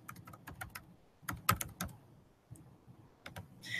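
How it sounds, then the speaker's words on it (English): Keys clatter on a computer keyboard in short irregular bursts of close, crisp taps, pausing briefly before another quick flurry. "I'm going to go to pages and I'm going to type in resources."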